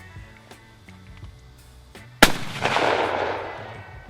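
A single sharp, loud rifle shot from a Peruvian Modelo 1935 Mauser cracks out after quiet handling noises and is followed by a long, rolling echo that fades away.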